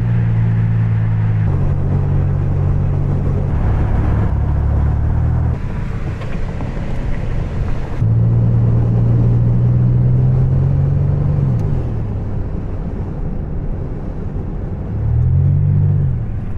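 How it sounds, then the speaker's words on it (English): A car with a leaking power steering pump drives along with a loud, steady road and engine rumble. A droning whine rises, falls and drifts in pitch over the rumble. "I'm starting to hear my steering pump again."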